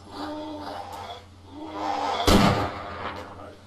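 A single sharp gunshot from ARMA 2 with the DayZ mod rings out mid-clip, loud and close, over a steady low game hum and scattered ambient noise, with no talk.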